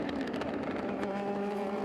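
Gibson 4.2 litre V8 engine of an LMP2 prototype at the 24 Hours of Le Mans, a loud, steady engine roar with sustained harmonic drone and a rough crackling texture, no voices.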